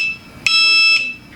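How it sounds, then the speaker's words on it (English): A blood sugar monitor gives a short, piercing electronic alarm tone: a steady high beep lasting about half a second, close and loud, with a faint trailing echo. "that's just my alarm letting me know that my blood sugar is high"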